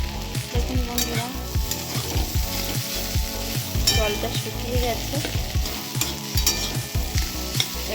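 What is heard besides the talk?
potatoes and pointed gourd frying in a pan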